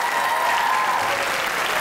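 A studio audience at a comedy talk show claps in steady, dense applause for nearly two seconds, close and fairly loud, with no talking over it.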